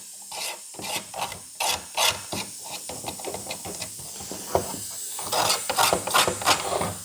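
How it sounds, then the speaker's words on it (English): A razor blade scrapes a light chamfer along the freshly cut edge of a part, deburring it during a stereo install in a 1940 Ford-inspired Mustang hardtop coupe: repeated close, raspy strokes in irregular bursts, with no talk. "Just giving it a light chamfer using the razor blade."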